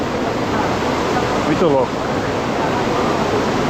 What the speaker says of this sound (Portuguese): Essa é a cachoeira mais intensa, eu acho, que eu já vi.